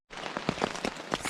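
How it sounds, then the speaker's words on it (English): Rain patters steadily and densely on a tent at a campsite in the New River Gorge, a close, even hiss of drops with no voices. "So it is raining pretty good."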